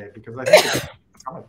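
A person sneezes once, a short sharp burst amid conversation, with speech before and after it.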